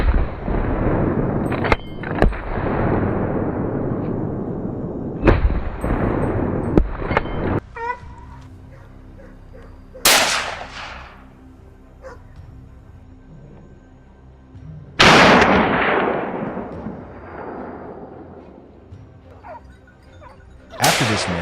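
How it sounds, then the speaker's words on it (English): Loud, sharp gunshots fired at a wild boar on a mountainside, several cracks spaced seconds apart, each ringing out and echoing away, with no talk. "Without hesitation, I opened fire and shot it."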